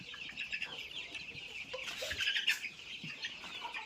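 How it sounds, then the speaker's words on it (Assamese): Forty-day-old broiler chickens cluck and chatter steadily in a poultry shed, a dense, faint chorus of many birds with no one talking. "এইখিনি কয়লাৰ হয়, এইখিনি কয়লাৰ মুৰ্গী হয়।"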